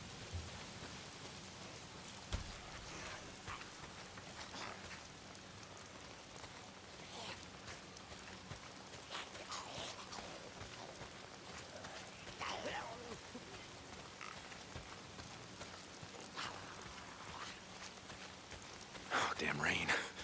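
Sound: rain in the video game Days Gone

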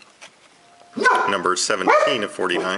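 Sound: dog barking

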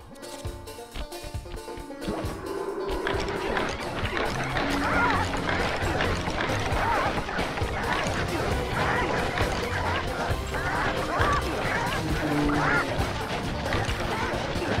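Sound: chickens squawking as they are whacked, Sly Cooper video game

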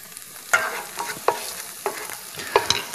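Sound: onion stewing on low heat for risotto

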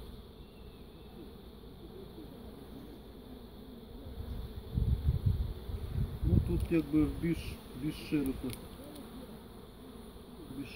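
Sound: honeybees flying around hive

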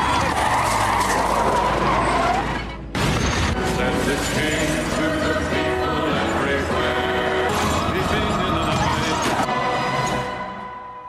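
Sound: car crash with skidding in a film

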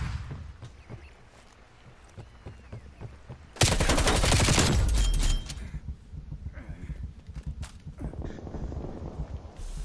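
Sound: flashbang grenade and gunfire in Call of Duty Cold War video game

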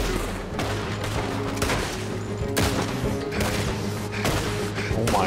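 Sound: gunfire in video game Red Dead Redemption 2

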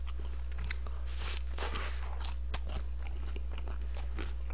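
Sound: biting and chewing Korean-Chinese takeout food

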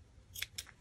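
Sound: scissors trimming tassel threads

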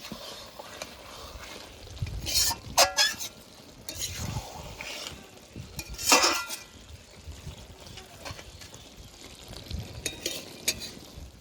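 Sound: stirring small fish chorchori in a pan

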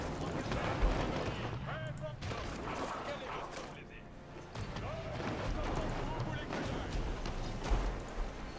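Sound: artillery fire on coastline, video game Age of Empires

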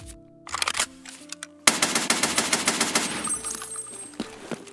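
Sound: automatic gun firing M62 bullets in video game Tarkov

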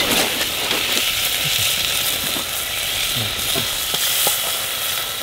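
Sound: frying foraged seafood in a pan

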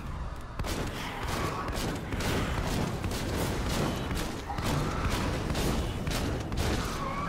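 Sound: shotgun firing in Seraph video game

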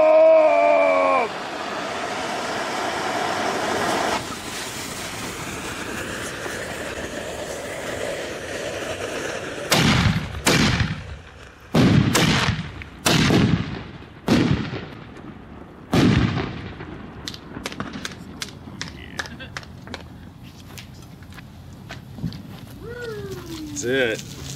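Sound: Excalibur 60 gram firework mortar shells exploding

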